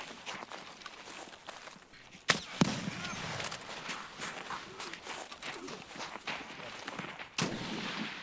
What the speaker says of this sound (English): Ah, he shot at me.